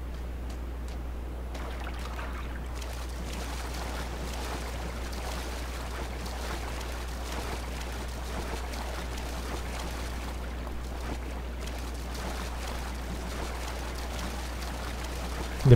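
A boat moves across water in PUBG, with a steady low engine drone under continuous rushing, splashing water, even and moderately close throughout.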